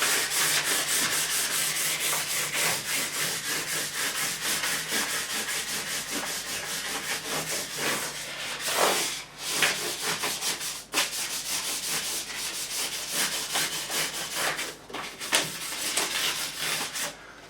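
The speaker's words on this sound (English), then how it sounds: "this is sanding the wrong way" Sandpaper rubs across the metal frets of a Made-in-Japan Jackson RR3 Randy Rhoads guitar during a fret dress, a close, continuous scratchy back-and-forth rasp with a few brief pauses.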